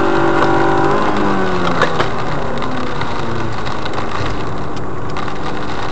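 A car engine runs steadily and fairly loudly, with an odd irregular clicking and rattling mixed into its hum.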